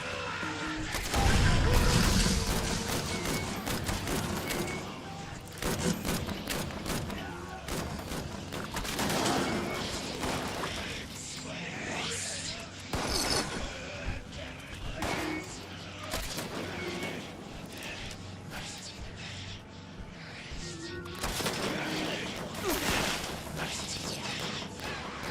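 Rapid, sustained gunfire from a hand crank gun in Fallout 76, a dense rattling barrage that runs nearly the whole time, loud and close with short pauses and heavy impacts mixed in.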